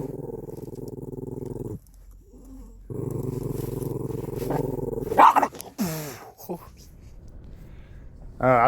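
A dog growls in long, throaty rumbles broken by a pause, then gives a few sharp barks or yelps near the end, while a person talks close by.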